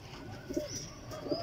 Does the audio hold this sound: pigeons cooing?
yes